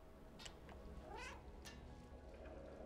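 A few plaintive meows from a cat in the game Stray, near and moderately loud, standing alone over a low hum of background ambience.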